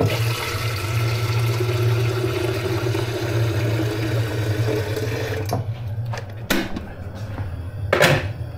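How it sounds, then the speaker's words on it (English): Hot water gushes steadily from a kitchen tap during holiday meal preparation, a continuous close rushing flow that stops partway through, followed by a few sharp knocks and clatters in the quieter room. "Hot water is on."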